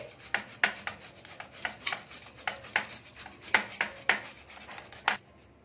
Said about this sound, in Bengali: এখানে এটাকে আমি গ্রেট করে নিচ্ছি।